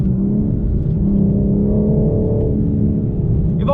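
A 2021 BMW M4 Competition accelerating hard, its engine a steady loud low rumble heard from inside, with a slight rise in pitch and no talking.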